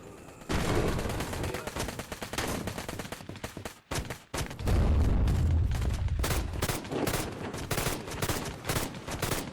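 Rapid light-machine-gun bursts in the VR shooter Plastic Battlegrounds VR, dense and loud, with a brief pause near four seconds before sustained automatic fire resumes alongside deeper impact thuds.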